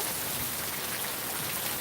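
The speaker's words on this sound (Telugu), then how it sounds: "వర్షం కూడా బాగా ఎక్కువ వచ్చేస్తుంది తగ్గట్లేదు" Heavy rain pours down in a dense, unbroken hiss, close and loud throughout.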